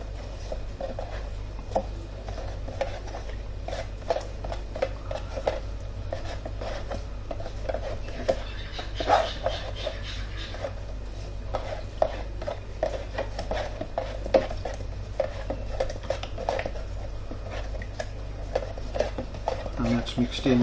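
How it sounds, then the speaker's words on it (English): Glue being stirred into a mixture for preparing icon panels: a steady run of scraping, rasping strokes with irregular gritty ticks, close and moderately loud over a low hum, with a voice heard at times. "the glue. And stir it in."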